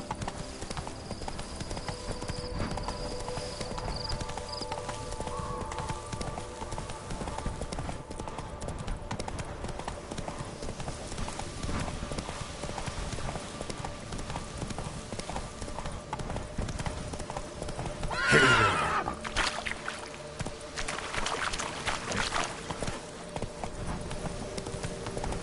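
Roach, Geralt's horse in The Witcher video game, gallops with steady clip-clopping hoofbeats under a dense, continuous game soundscape, with a brief louder burst partway through.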